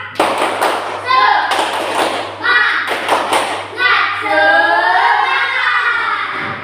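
A class of fifth-grade children clap in sharp rhythmic bursts, chanting together loudly between the claps in a lively classroom.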